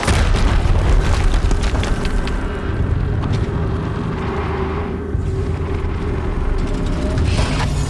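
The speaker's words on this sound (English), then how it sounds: "Another explosion." A loud, sustained rumbling boom from an explosion in the video game Horizon Zero Dawn, continuing as a dense roar with no quiet gaps.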